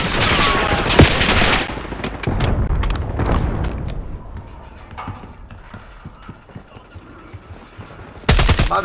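Enemy sniper fire in a video game rings out as loud, sharp gunshot cracks, a dense cluster early on, then sparser shots over a rumbling background, with another burst at the end.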